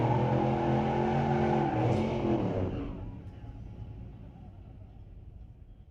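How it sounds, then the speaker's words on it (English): Street-legal drag race cars accelerate hard down the strip at Mission Raceway Park, a loud roaring engine surge that builds and then fades into distant rumble as the cars pull away. "Got us a drag race."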